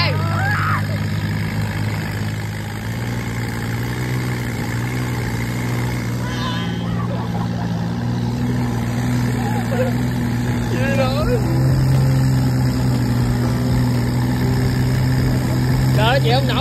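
Racing motorboats drone on a river in the Mekong Delta, a steady engine hum running beneath continuous talking throughout.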